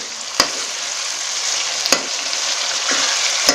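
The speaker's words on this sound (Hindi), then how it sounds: "इसे थोड़ी देर भूनेंगे जब तक इसका कलर चेंज नहीं हो जाता।" Chicken and pulao ingredients fry in a pot, giving a steady, close sizzle that runs throughout, with a few sharp stirring clicks against the pot and no voices.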